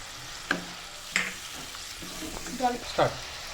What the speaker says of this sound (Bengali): আমি এর মধ্যে এবার একটু জল দিয়ে দিচ্ছি। এবার চেরা কাঁচা লঙ্কাগুলো এর মধ্যে দিয়ে দিচ্ছি।